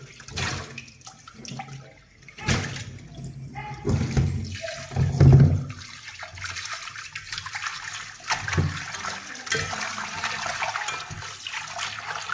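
Tap water runs and splashes in a sink as fresh sardines are rinsed by hand, with intermittent gushes, sloshing and clatter, close and moderately loud.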